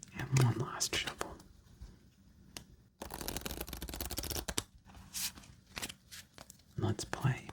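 Plastic waterproof playing cards riffle and snap together in several quick bursts, close and soft, with faint shuffling and handling noises between them.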